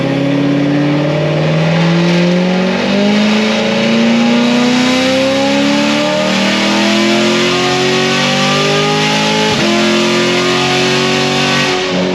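Corvette C7 with an LT1 engine and upgraded heads and cam revs hard up through the gears, its loud, close engine note climbing in pitch, dropping briefly at the 3-4 shift and rising again, with no talking.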